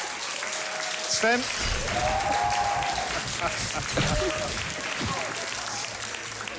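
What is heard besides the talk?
audience applause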